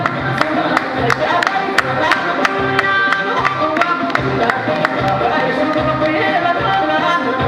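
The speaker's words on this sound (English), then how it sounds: "A round of applause for our contestants from the Northern region." An audience at a traditional dance contest in Nigeria applauds the contestants: a loud, continuous crowd roar with sharp claps or beats landing in a steady rhythm throughout.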